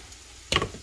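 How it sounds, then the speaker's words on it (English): Sausage sautéing in a pan for a crustless pizza casserole gives a short burst of sizzle and scraping near the middle, close and moderately loud, with only faint background before and after. "I'm going to saute them up a little bit so they get a little bit soft"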